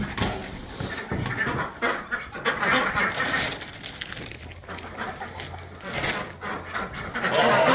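Backyard ducks leave their pen, with clucking bird calls, soft panting and shuffling, and rustling from a fence being moved, all fairly close and continuous throughout.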